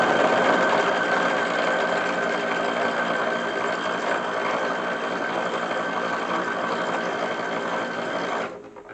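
A sewing machine stitches the seams of an 1880s-style bustle skirt, running in one steady, continuous whir for about eight seconds before it stops abruptly near the end.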